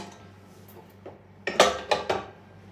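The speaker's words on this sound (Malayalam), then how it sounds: "ഞാൻ നല്ലോണം കഴുകി വെച്ച അരിയാണ്, അത് ഇതിലേക്ക് ഇടാം." Washed rice tipped into a cooker for neypayasam, a few quick clattering hits and scrapes of metal vessel and grains, close and alone after a quiet start.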